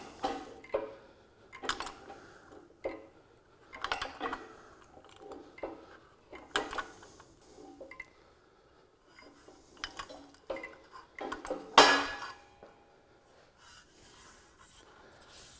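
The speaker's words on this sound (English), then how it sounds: "just by stretching this metal along this edge, we've been able to create a nice curve in this metal" Sheet metal is worked on a shrinker stretcher, with a series of sharp metallic clunks and clicks at irregular intervals as the jaws bite and stretch the edge. One louder clank comes near the end, and quiet pauses fall between strokes.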